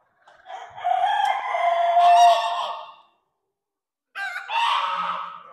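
Roosters at a poultry show crow loudly and up close, first one long drawn-out crow and then a second, shorter one after a silent gap.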